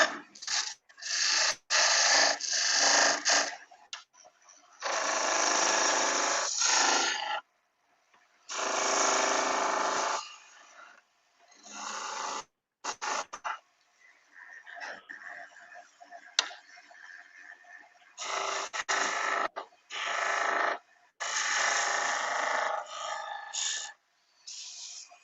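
Sanding a wooden cabriole (club foot) leg as it spins on a lathe, loud harsh hissing bursts of several seconds each, separated by short silent gaps, with no speech over it.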